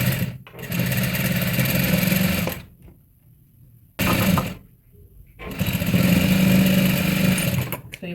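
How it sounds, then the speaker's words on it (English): A straight sewing machine runs in loud, steady bursts while fabric is stitched for baby clothes, stopping twice for short quiet gaps before starting up again; a voice talks faintly under the whir. "So let's go to the straight sewing machine."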